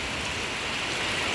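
Steady rain falling outdoors over a garden plantation on a dark, overcast day, a continuous even hiss with no breaks, fairly quiet and alone without any talking.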